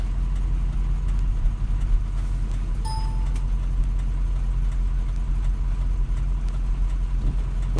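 A 2004 car engine drones steadily as the vehicle comes down off the highway, a loud, constant low hum with no talking and no breaks.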